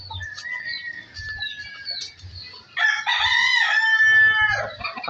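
A rooster crows loudly and close by, one long strained call in the second half, with softer clucking and chirps before it.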